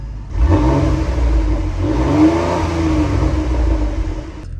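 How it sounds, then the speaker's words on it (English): Contra Costa County Sheriff Interceptor sedan with 116,000 miles cranks and catches, then runs with a loud, steady engine drone and a slight rise in revs, heard close up without talk. "let's start this back row up. Oh yeah. Starts right up."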